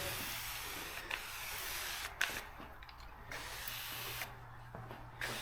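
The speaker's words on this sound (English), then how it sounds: "So I'm going to spray a little wax and grease remover on here." Wax and grease remover hisses from a spray can onto a hot rod car body in short, close bursts separated by brief pauses, with no talk.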